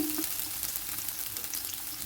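Onions frying in a pan for venison chili, a steady close sizzle and crackle with faint stirring, continuous and fairly loud with no talking.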